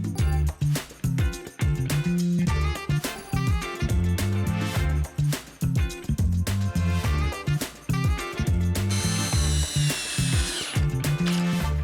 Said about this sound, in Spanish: Las uniremos con 2 tornillos de madera en cada una de las uniones.